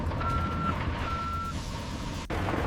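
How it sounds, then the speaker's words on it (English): Large mining haul truck at the primary gyratory crusher of a copper operation, its reversing beeper sounding in two long tones over a heavy diesel rumble, followed by a sharp thud. "The primary crusher trucks dump their loads into a massive gyratory crusher."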